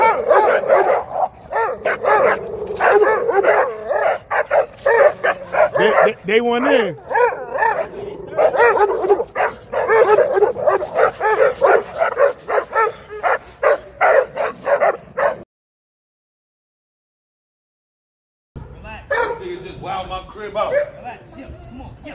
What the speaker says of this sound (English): We don't like these dogs anyway.